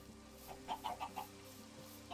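Chickens clucking in Minecraft, a few short soft clucks in quick succession, faint and alone against a quiet background.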